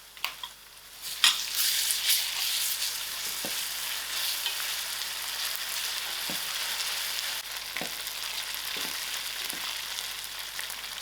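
Whole cumin seeds with ginger and garlic hiss and crackle in a hot pan, a steady loud sizzle running throughout with a few sharp spits and pops.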